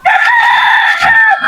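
Native chickens on a farm, with a rooster giving a loud, close, sustained crow lasting over a second, accompanied by faint clucking beneath.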